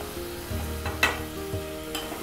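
Paneer bhurji masala with tomatoes, salt, chilli and turmeric being stirred in a hot pan: a close sizzle runs under a few distinct scraping strokes of the spoon over two seconds.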